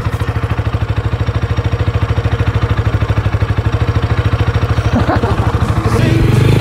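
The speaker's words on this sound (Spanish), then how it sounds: "Ahí va Omar, en su nueva moto" Motorcycle engine running close by with a rapid, even chugging idle, then revving up near the end as it pulls away.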